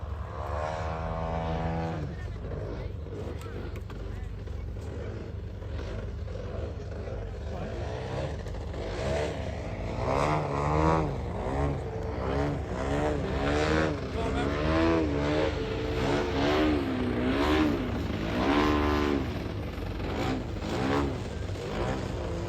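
A large petrol-engined Skip Model Designs 52% Ultimates biplane model flies aerobatics at an outdoor flying field. The engine buzzes steadily and swells and dips with throttle changes as it swoops past, with someone commentating over it.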